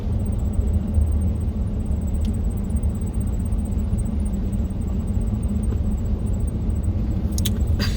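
Road traffic heard from inside a van in a traffic jam, a steady low engine and tyre rumble with a faint high whine and a brief jangle near the end.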